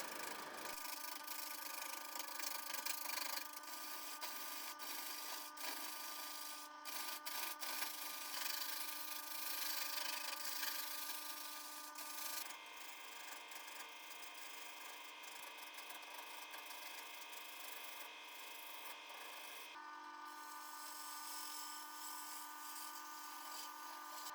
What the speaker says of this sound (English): I've got this oak log and I'm going to quickly turn it down to a cylindrical shape